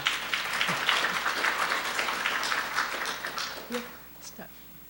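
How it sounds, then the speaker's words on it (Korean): A conference audience at an academic gathering in Jeju applauds a keynote speaker, a thick wash of many clapping hands that fades toward the end as a voice and room sounds emerge. "박수로 격려해 주시기 바랍니다."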